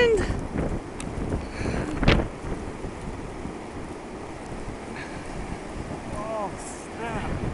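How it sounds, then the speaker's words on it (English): Strong wind gusting during a snow storm at Grand Bend, roaring broadband and buffeting the microphone steadily throughout, with a brief louder gust early on and faint voices in the background. "The wind!"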